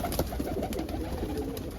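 Pigeons coo softly and continuously close by, with a steady low background hum and light rustling.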